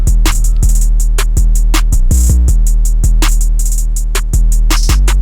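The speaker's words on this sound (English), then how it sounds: "So next I added some snares" Dark trap beat programmed in FL Studio, with booming 808 bass, rapid hi-hats and pitched snares shifting up and down, loud and dense, with no voice.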